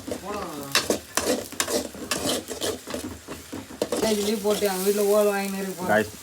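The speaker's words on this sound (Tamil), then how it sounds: "நல்லா வெங்காயத்தை பற்றி வச்சுங்க" Onions frying in a pan during home cooking, giving a steady, close sizzle with occasional stirring scrapes that runs under people talking throughout.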